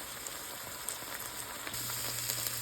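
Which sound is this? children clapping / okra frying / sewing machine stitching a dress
okra frying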